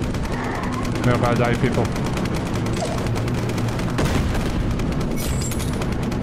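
Constant rapid automatic gunfire rattles from a WW2 train in the Rotting Railways video game, with booming shots mixed in, loud and continuous while someone talks over it.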